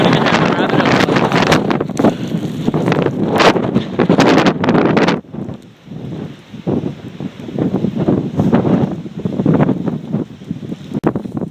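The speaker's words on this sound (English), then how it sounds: "It's really windy." Strong gusty wind during a Nova Scotia storm with rain, roaring and buffeting loudly against the microphone in bursts, easing briefly before surging again.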